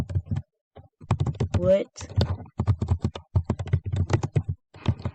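Python code being typed on a computer keyboard in quick, uneven bursts of close clicking keystrokes, with someone speaking between and over the typing.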